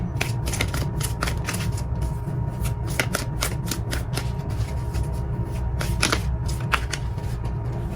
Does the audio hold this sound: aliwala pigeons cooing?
no